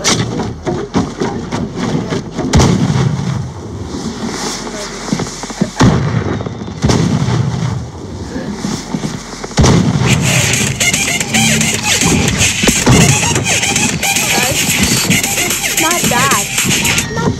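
A purple-rarity launcher weapon fires and explodes in a Fortnite battle royale match in playground mode, producing loud repeated booming blasts with crackling bursts over busy game noise. People can be heard talking.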